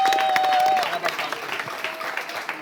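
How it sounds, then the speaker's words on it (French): Audience applause at a French event where the host has just named a game, steady broadband clapping that fades after about a second with a whistle-like tone sliding in and out. "Applaudissez, s'il vous plaît."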